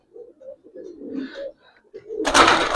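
Road Master pigeons give low, burbling coos in short bursts, close and fairly clear, ending with a sudden loud broadband rustle or flutter.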